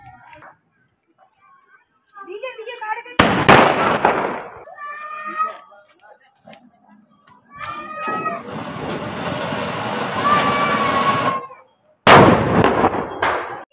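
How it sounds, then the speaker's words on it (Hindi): Diwali firecrackers go off outdoors in loud bursts, several sharp cracks and crackling volleys separated by pauses, with whistling fizz and people talking between the blasts. "चलो यार चलाते हैं पटाखे"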